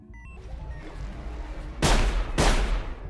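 Enemy gunfire in the game Sir, You Are Being Hunted: two loud, sharp shots crack about half a second apart, ringing over a quiet, low ambient rumble.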